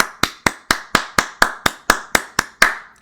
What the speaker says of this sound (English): Gentleman's clap to you, good sir.